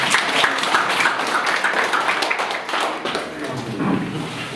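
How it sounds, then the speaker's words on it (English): An audience at a college-in-jail event in Davao City Jail claps together, a moderately loud patter of many hands that carries on steadily and eases off slightly near the end. "Should we give him a round of applause?"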